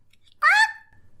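A person gives one short, nasal squawk imitating a gull's cry, loud and close, surrounded by near silence.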